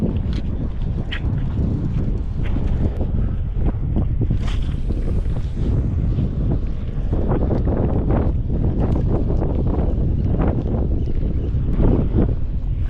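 Strong, steady wind at a seaside fishing spot roars and buffets the microphone throughout, with occasional knocks and clatter in the background.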